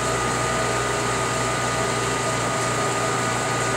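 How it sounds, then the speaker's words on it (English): Steady mechanical hum and broadband hiss of a vacuum pump drawing contact vacuum between substrate and mask on an ABM mask aligner, constant and fairly loud throughout with no talk. "Press the contact vacuum. There is a vacuum generated between the substrate and the mask."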